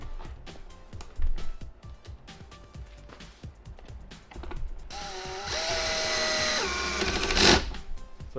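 A power drill drives a single screw into a Toyota fog light mount. Rapid clicking and ratcheting come first, then a rising, sustained motor whine that ends in a loud, close buzz.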